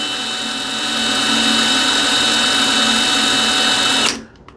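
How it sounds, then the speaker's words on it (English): A power drill fitted with a number 3 bit runs in the override hole of an Accu Slide RV slide-out mechanism, giving a loud, steady motor whine that builds slightly and then cuts off abruptly near the end. "We want to insert that number 3 bit directly into that hole, and then run our drill counterclockwise."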